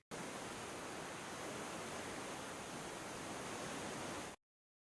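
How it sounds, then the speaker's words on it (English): Sutherland Falls, a tall waterfall, crashes down in a steady, dense broadband roar that holds unbroken at an even level for several seconds before cutting off abruptly, with no voices. "The sheer power of the water crashing down is like a religious experience."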